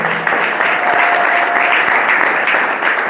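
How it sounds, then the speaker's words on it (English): A short burst of steady, close audience applause at a college Founders Day ceremony, dense and even from start to finish. "If we can give him a round of applause."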